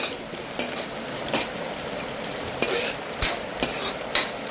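Maggi egg noodles being stirred in a pan, a soft sizzle under repeated sharp scrapes and clinks of a spoon against the pan at an irregular rhythm, close by, without speech.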